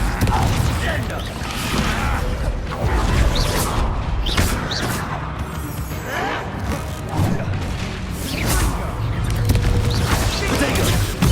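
The Confringo blasting spell cast in the video game Hogwarts Legacy, heard amid repeated bursts, crashes and mechanical clatter of combat, while voices speak over the fighting throughout.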